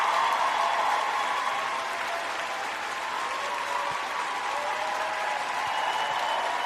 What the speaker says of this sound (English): Come on, come on, come on. Clap it up, clap it up, clap it up.